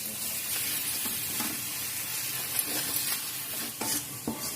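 Sprouts stirring and frying in a pan with chili powder, salt and coriander powder, a steady close sizzle broken by scraping stirs and a few sharp spatula knocks toward the end.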